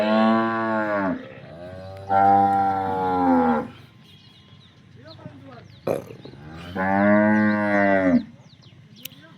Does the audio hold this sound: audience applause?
no